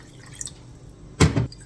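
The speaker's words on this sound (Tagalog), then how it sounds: "Dagdagan ko siya ng tubig." Water poured into a sweet and sour sauce mixture while cooking sweet and sour chicken, a short splashing pour near the end after soft kitchen dripping.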